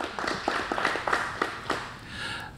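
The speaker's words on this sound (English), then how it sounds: "Let's give Mr. Tony Dow a round of applause for letting us come into use this establishment today." A small group at a football press conference gives a brief round of applause. The separate claps are close and moderately loud, with a slightly uneven rhythm, and they fade out after a couple of seconds.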